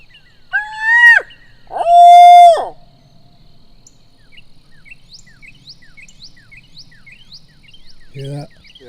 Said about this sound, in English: that was a gobble, wasn't it?